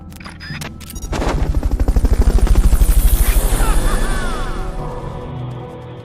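A video game helicopter's rotor chops rapidly and loudly, swelling up close then gradually fading, with a few sharp clicks and blips at the start, in Metal Gear Solid: Peace Walker.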